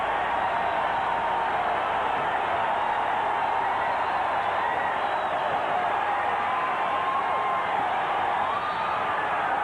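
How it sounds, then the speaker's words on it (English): Steady roar of a basketball arena crowd during a 1992 Houston Rockets versus Golden State Warriors game, a continuous loud wash of cheering with occasional whoops and no break. "Listen to this crowd."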